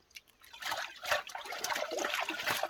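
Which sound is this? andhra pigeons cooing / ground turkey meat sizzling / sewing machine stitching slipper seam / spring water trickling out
spring water trickling out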